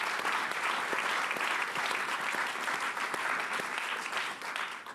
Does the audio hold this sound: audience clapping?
yes